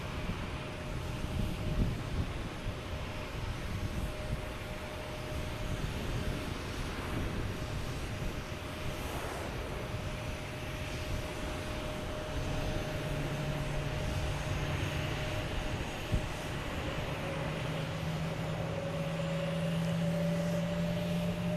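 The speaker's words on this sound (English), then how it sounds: "We have Delta heading to Rome. Flight 112." Delta airliner, flight 112 bound for Rome, at Boston Logan Airport, a steady jet engine roar that holds on and slowly swells, heard from a distance.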